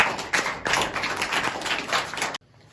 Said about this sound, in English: Clap for Akib.